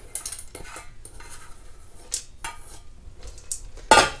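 Dried split green peas spill from a bowl into a pot in a home kitchen for ham and split pea soup, giving scattered rattling and clinking taps that end in a final louder clatter.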